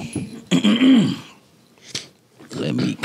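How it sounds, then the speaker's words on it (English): A person clears their throat with a few rough, guttural rasps separated by short pauses, close and fairly loud. "Let me clear my throat"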